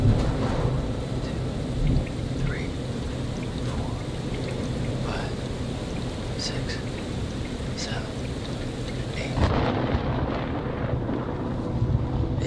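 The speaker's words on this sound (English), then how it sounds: "The storm's 8 miles away." Thunderstorm in the video game Man of Medan: a steady hiss of rain with low, distant rumbling thunder throughout and a fuller swell of thunder late on, with no talk over it.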